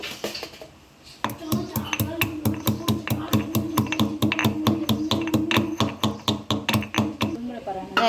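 A spoonful of fenugreek seeds is ground by hand in a home kitchen, making a steady, fast run of sharp pounding knocks, close and fairly loud, with faint voices in the background.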